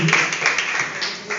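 Congregation in a church clapping, a dense even patter of applause that fades slightly toward the end, with a faint murmur of voices underneath.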